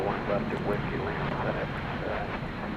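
An aircraft taxis across the airfield at DFW Airport, giving off a steady, continuous engine roar with broadband rumble and hiss that holds at an even loudness throughout.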